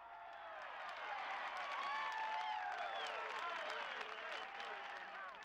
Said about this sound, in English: But this cheering is more than just school spirit.